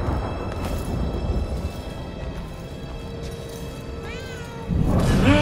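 A cat meowing in the video game Murdered: Soul Suspect, over a busy background of ambient game noise, with a drawn-out wavering meow rising near the end as the sound grows louder.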